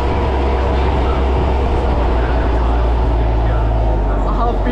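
A theme park tram at Busch Gardens Tampa moves along, a steady low rumble and rolling drone with faint rattling, continuous and close, with a voice talking over it.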